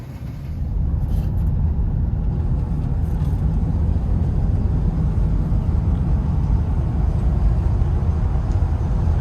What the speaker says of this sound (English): Okay, we're out driving the 66 F100.